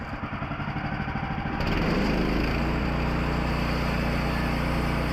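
A Woodland Mills HM13 sawmill's small gas engine drones loudly and steadily while its band blade skims a thin layer of paint off a log, the tone deepening and settling under load partway through with no talk.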